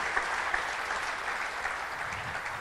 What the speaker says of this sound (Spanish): Si le va a dar el aplauso, déselo.